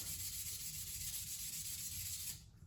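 Continuous abrasive rubbing as a small metal shaft for a scratch-built 1/24 scale Indy slot car is polished, close and steady, then stopping abruptly near the end.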